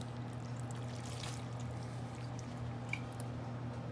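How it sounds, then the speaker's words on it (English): Soft pouring and trickling as cooked taco chicken slides from an Instant Pot into a bowl, faint and close, over a low steady hum. "I'm going to pour everything into the bowl."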